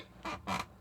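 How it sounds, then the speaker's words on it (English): A squeaky chair creaks twice in quick succession, two short, moderately loud groans with a brief gap between, close by and without talk. "my chair is squeaky as hell"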